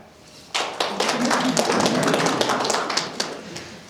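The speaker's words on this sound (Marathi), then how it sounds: "टाळ्या." An audience applauds at a Marathi podcast summit in Pune. The clapping starts abruptly and carries on as a dense, fairly loud patter of individual claps until the end.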